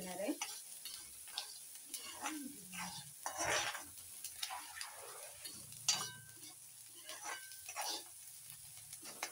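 Onion softening with a little salt in a pan, stirred with a spoon that scrapes and clinks against the metal over a light sizzle, close and fairly quiet.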